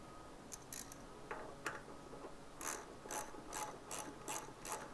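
A ratchet tightens the 14mm front brake caliper bolts on a 2008 Honda CBR 1000RR, making bursts of rapid clicking that start sparse and become a regular run of close strokes.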